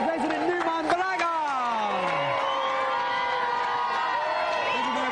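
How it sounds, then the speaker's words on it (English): A studio audience on the television video-game show GamesMaster, series 4 episode 1 with Frank Skinner, cheers, whoops and shouts loudly and continuously, with crowd noise filling the whole stretch. "Round of applause for our resident newman, Baraga."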